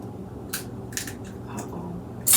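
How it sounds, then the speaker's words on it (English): Boiled egg shells cracking and being peeled by hand, producing a few sharp, separate crackles spaced apart, close by, over a faint low background. "we're gonna crack our eggs open"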